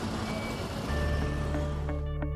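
Dense rush-hour traffic in Victoria Island, Lagos: a steady, low rumble of engines with tonal vehicle hums and brief horn-like tones near the end, fairly faint.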